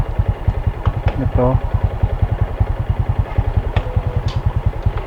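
A Honda XRM 125 semi-automatic motorcycle idles in neutral close by, its engine putting out a steady, rapid, even chugging throughout, with a brief spoken word over it.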